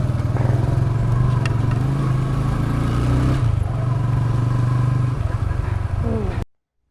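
A problem-prone motorcycle riding along a village road, its engine droning steadily with a low uneven rumble and some rattle, close and continuous until it cuts off near the end.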